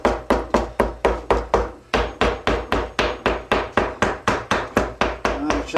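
A hammer raps repeatedly on a concrete sinker mold holding Quikrete vinyl concrete patch, producing a rapid, steady run of about twenty close, crisp knocks with one brief pause.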